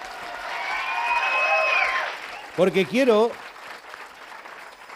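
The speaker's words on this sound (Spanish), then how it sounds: "Un aplauso" A broad wash of clapping from a TV studio audience rises and fades, with a voice briefly speaking over it near the end.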